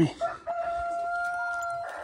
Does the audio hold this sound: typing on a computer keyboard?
no